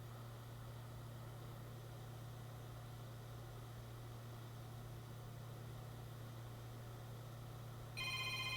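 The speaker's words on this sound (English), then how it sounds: "Phone call." A telephone gives a brief, bright ring at the very end, after a long stretch of steady low electrical hum.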